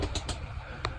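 Pigeons in a pigeon cage give a few soft, low coos over a steady background rumble in a brief snippet.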